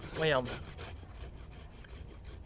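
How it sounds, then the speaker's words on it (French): A Japanese pull saw cuts a maple branch on a bonsai taken from a garden, giving soft, rhythmic rasping strokes against a low, steady background, with a brief spoken word at the start. "La scie à tirage permet ce genre de taille."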